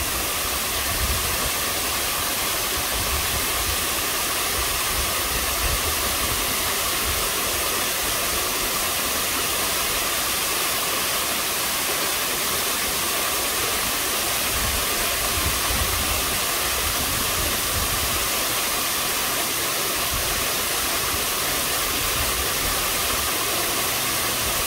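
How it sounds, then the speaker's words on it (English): Nearby waterfall, a loud, steady, broadband rush of falling water that continues unbroken for the whole stretch with no voices over it. "just to enjoy the benefits of living next to a gorgeous waterfall,"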